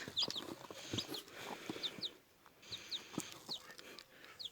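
Faint, high peeping chirps of newly hatched turkey chicks repeat intermittently over quiet background rustling.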